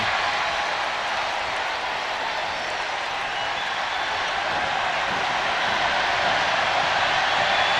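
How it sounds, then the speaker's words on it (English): Dense, loud crowd noise fills an arena at a women's college basketball game between the Gamecocks and Clemson, a steady roar of cheering and applause around a free throw that holds throughout without letting up. "This is the loudest the crowd has been."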